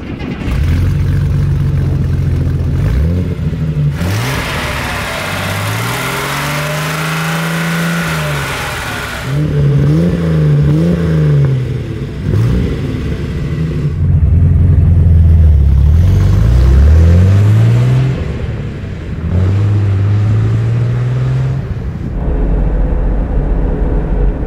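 A 1956 Mercedes 300 SL Gullwing with sidepipes revs repeatedly up close, its engine rising and falling in loud blips between idling stretches, with one long sustained rev near the start.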